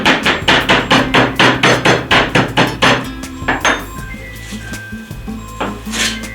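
A chicken fillet under plastic film is pounded flat for schnitzel: a quick, even run of a dozen or so heavy, dull thuds, then a few slower, scattered blows, close and loud.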